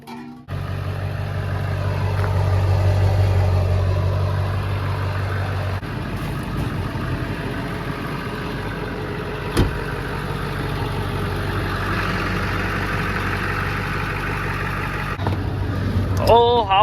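A worn, high-mileage Ford 7.3 Powerstroke diesel truck idling with a steady low chug throughout, nearby and moderately loud, with a brief sharp knock partway through.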